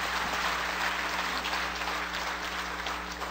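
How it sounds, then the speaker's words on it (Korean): An audience at the book launch of Park Geun-hye's autobiography applauds in a dense, steady wash of clapping hands that fills the room evenly and tapers only slightly at the end. "함께 하셨던 분 그리고 진행한 조희수 씨에게도 박수 한번 다시 보내주시기 바랍니다"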